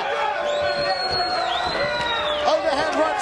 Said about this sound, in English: Crowd trying to rally for Farkhad.